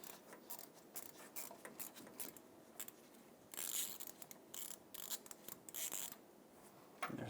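A ratchet works a 13mm starter mounting nut loose on a 2015-2020 GMC Yukon XL 5.3L V8, a quiet run of fast clicking bursts with brief pauses between them, close by and faint.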